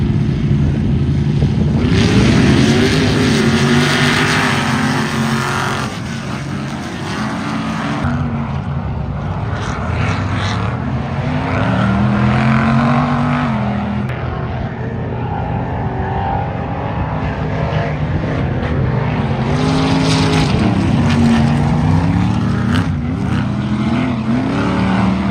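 Ultra 4 off-road race rigs tear past during a race series stop in Bowling Green, their engines a loud, continuous roar that swells and fades as they accelerate and pass.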